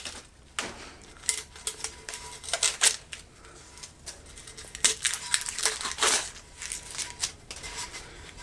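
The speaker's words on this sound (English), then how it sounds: "Let me use the scissors just to cut a little bit." Scissors snip and crinkle through tight clear plastic sublimation wrap, close up, in irregular bursts of crackling cuts with short pauses between them.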